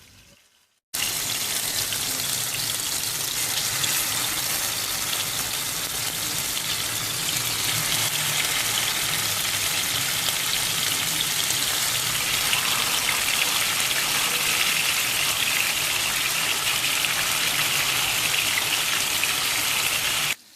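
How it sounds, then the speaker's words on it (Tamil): A loud, steady sizzle of chicken pieces deep frying in hot oil, with continuous crackling and popping and no voices. "உங்களுக்கு தேவையான அளவு எண்ணெய் சேர்த்து சிக்கன் பீசஸ், கோழி துண்டுகளை ஃப்ரை செய்ய பொரிக்க ஆரம்பிச்சிடலாம்"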